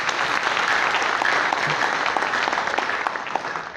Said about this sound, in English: So can you even clap for us?